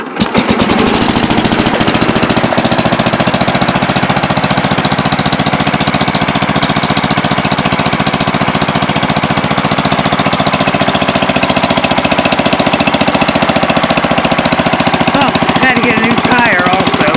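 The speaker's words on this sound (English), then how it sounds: "cranks up nice and easy like the old Briggs does." An Allis-Chalmers Big Ten garden tractor with a Briggs engine runs steadily at close range, a loud, rapid, rattling small-engine chatter that continues unbroken throughout.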